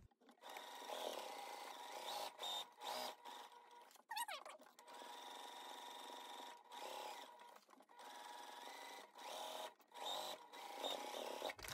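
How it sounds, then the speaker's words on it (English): A sewing machine stitches a laptop sleeve down, across the bottom and back up. The motor whirs steadily and close in several runs, broken by brief stops, with no voices over it. "I'm gonna stitch down, across the bottom, and then back up."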